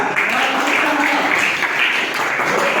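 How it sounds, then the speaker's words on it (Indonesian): A classroom of students applauds, with dense, steady clapping filling the room at close range and holding loud for a few seconds without a break. "kita beri aplaus juga"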